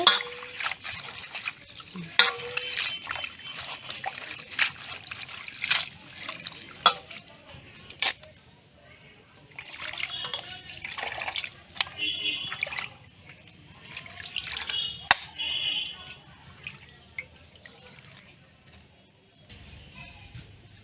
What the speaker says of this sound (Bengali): পাতাগুলো ধুয়ে নিব